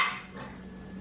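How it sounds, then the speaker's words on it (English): A dog barks once, sharply and close, at the very start, followed by quiet room noise. "I don't know why she's barking."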